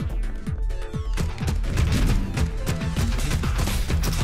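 Weapon fire in the video game Neon Abyss, a steady rapid stream of punchy shots with explosive thumps, loud and continuous, with no talk.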